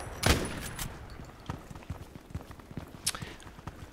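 A long-range rifle shot fires in the video game Contract Wars, one sharp loud crack near the start, then scattered softer clicks and thuds, with another fainter crack about three seconds in.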